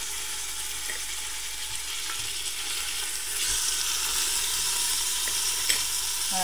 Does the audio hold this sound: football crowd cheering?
no